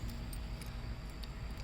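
A whole bunch of keys for a 1970 Plymouth Barracuda jangles softly and steadily, with small metallic clinks scattered through a faint, close background hum.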